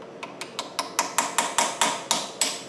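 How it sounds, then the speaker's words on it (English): A small tack hammer taps a metal chisel about ten times in an even rhythm, sharp metallic clicks growing slightly louder, close up and without talk. "Take a little chisel, a little tack hammer."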